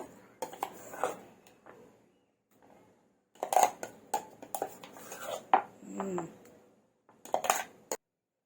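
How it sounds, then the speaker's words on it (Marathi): Green raw mango chutney is scraped from one vessel into a bowl, several bursts of clinking spoon and dish sounds with short quiet gaps between them, close and fairly soft. "आता आपण दुसऱ्या भांड्यामध्ये आपण शिफ्ट करूया हे बाउलमध्ये टाकते मी चटणी ही सर्व"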